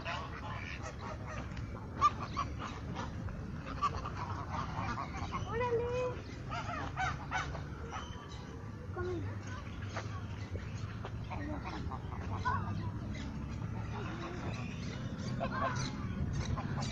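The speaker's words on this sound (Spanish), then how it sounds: "Ahí hay patos." Distant honking and quacking of ducks scattered over an outdoor murmur in an ecological park in Puebla, Mexico, with faint voices in the background.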